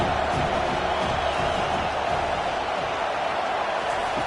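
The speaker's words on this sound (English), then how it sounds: "Decibels rising as the crowd gets behind this defense on 3rd down." A stadium crowd in a football video game roars steadily on third down, a dense, continuous wall of cheering noise at even loudness throughout, with no distinct voices standing out.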